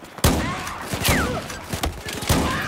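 Heavy shotgun blasts and other gunfire crack and boom in the Battlefield 4 video game on Xbox One. Sharp loud shots land at irregular intervals over a dense battle din, and a voice shouts briefly over it.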